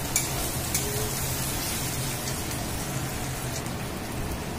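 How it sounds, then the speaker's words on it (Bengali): Onions sizzling in a pan, fried until deep red-brown as the base for a homestyle chicken kosha curry; a steady, dense crackle and hiss runs close and even throughout, with no voices. "তো দেখো পেঁয়াজটা প্রথমে আমি লাল করে ভাজবো"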